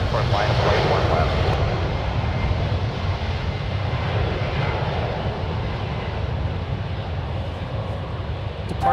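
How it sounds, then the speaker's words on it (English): An Air Canada Boeing 737 MAX 8 departs San Francisco, its engines a sustained rumbling roar that is strongest at the start and then settles into a steady, slowly fading drone. "Departing on 1 right is Air Canada Flight 567, departing to Vancouver, a 737 MAX 8"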